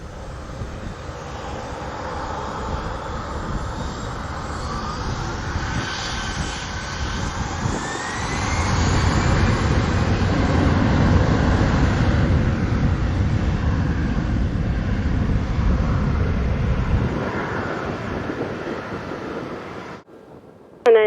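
A Delta Boeing 757 jet takes off at Montego Bay airport in Jamaica, its engine roar building to a loud sustained rumble with wind buffeting, then fading away.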